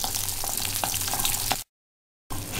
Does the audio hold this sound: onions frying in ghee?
yes